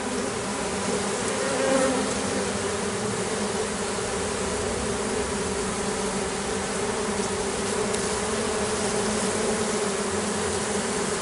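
A honey bee colony, just moved into a small hive box, hums in a steady, dense buzz that stays loud and unbroken throughout, with no voices.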